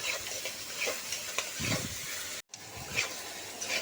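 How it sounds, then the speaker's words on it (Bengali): Ginger garlic paste frying in a pan for a dhaba-style chicken curry, a steady close sizzle with occasional scraping stirs and a brief silent break partway through. "এরপর আদা রসুনের পেস্ট দিয়ে দিচ্ছি। এবার এটাকে হতে দেবো।"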